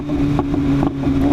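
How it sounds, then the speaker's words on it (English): A car with a loud exhaust idles and rumbles close by, a deep steady drone with small surges in the engine note, echoing off nearby hills. "we rev the hell out of this exhaust so you guys can listen to what this beast sounds like"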